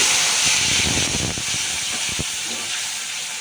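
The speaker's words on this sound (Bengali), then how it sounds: "পেস্টটা ভালো করে এবার কষানো হবে" A paste of ginger, green chili, tomato and whole cumin sautés in a pan for a vegetarian jackfruit korma, producing a close, continuous hissing sizzle with a few soft bumps from stirring.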